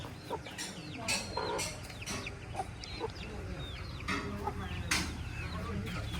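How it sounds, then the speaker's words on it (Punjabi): Aseel hens and chicks cluck and peep in a busy farmyard, with short calls scattered throughout over steady background noise. "ਇਹ ਆਪਣੇ ਅਸੀਲ ਚੂਚੇ ਨੇ ਦੇਖੋ ਜੀ"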